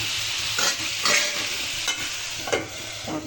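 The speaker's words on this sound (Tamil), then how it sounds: "தக்காளி நல்லா வதங்கிடுச்சு" Tomatoes cooking down into a gravy in a pan make a steady sizzle, with a few louder stirring scrapes at intervals throughout, close and alone with no voices.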